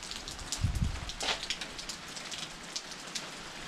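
Rain falls steadily through the night outdoors, a dense, even hiss of drops on surfaces with a few louder patters, fairly quiet and continuous with no voices.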